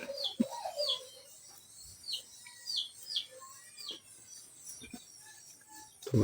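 Pigeons with a grown chick, a run of short high chirps and soft coos at close range, with faint rustling and the odd wing flutter in a quiet space.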